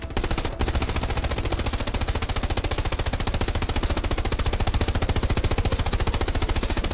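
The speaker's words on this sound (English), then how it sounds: "Why are you shooting machine guns at it?" Rapid, evenly spaced machine gun bursts hammer at a tank in a World War II tank video game, loud and continuous for several seconds after a brief opening.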